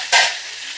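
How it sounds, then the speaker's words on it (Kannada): Fish sizzles in a hot pan as it fries, with a sudden loud burst of hiss right at the start that fades quickly into a softer, steady crackle. "ಇನ್ನೊಂದು ಸೈಡಲ್ಲಿ ಅದು ಫ್ರೈ ಆಗಬೇಕು"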